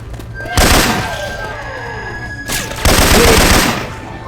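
Bursts of Syphon Filter weapon fire ring out in Left 4 Dead 2. Two loud, sustained rapid-fire volleys are separated by a brief pause.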